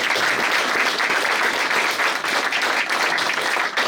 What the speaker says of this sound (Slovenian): Albin Gutman, danes ga žal ni z nami, si pa vseeno zaslužen aplavz.